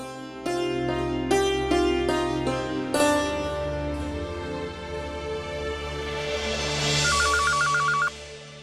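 A telephone call being placed from home: a ringtone-like series of tonal rings, several short bursts then a sustained electronic melody, loud and close, with no talk over it.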